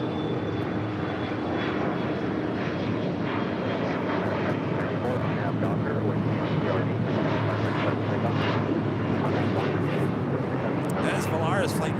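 Jet airliner engines rumble steadily at LAX as a Volaris Airbus A321 taxis on a taxiway, a continuous broadband roar with occasional voices talking faintly over it.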